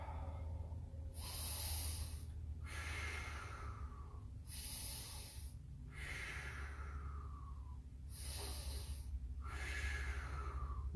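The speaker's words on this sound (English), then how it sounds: "Take some nice breaths." Slow, deep breaths are taken during a Wii Gong exercise, with about five long airy inhale-exhale cycles spaced a couple of seconds apart. The breathing is close and soft over a low background hum.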